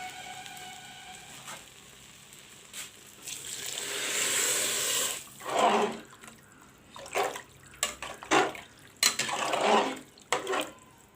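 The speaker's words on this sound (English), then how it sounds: "Add some water." Water poured into a cooking pot while making junglee pulao, a few separate splashing pours and bursts of liquid noise, fairly close, with no talking.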